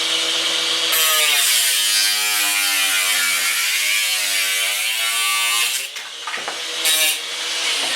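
An angle grinder cuts metal ceiling grid cross tees to length, a loud continuous high whine with shifting pitch that dips briefly near the end before resuming.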